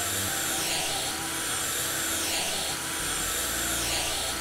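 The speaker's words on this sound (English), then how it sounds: "Why is this a vacuum cleaner" Vacuum cleaner in a video game: a steady, loud whirring drone with a whining high hiss runs throughout, its low tone shifting a little near the end, with no voices over it.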